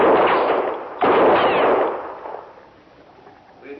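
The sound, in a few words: gunshots in a radio drama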